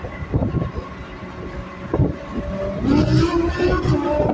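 A 2018 Audi R8 V10 making 562 hp accelerates hard on a rolling-start run, its engine note rising and dropping through quick gear shifts, loud and close, with no talk.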